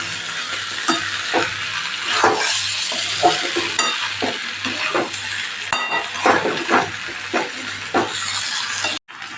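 Rice being stirred and fried in ghee for vegetable pulao, a steady close sizzle with repeated scraping strokes of a spoon against the pan and occasional light clinks.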